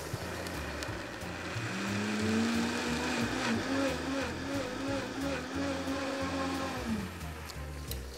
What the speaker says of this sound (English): So we're just going to blend this just until it's nice and thick.